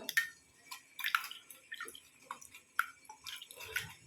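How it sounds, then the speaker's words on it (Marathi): Fenugreek seeds being rubbed and rinsed in water, with soft drips, splashes and trickles coming in scattered bursts close by, fairly quiet and with no voices. "चोळून चांगलं 2 पाण्याने धुवून घेऊ"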